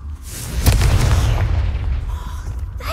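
A Confringo fire spell blasts in the Hogwarts Legacy video game, a loud booming burst with a rumbling roar that lingers and slowly fades over a few seconds.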